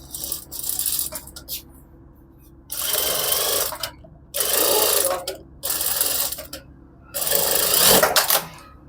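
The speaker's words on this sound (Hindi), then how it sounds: "और पहली सिलाई इसके किनारे पे लगाएंगे" A sewing machine stitches a baby's cuff in close, loud bursts, four main runs of rapid mechanical chatter separated by short pauses, with fainter handling sounds in between.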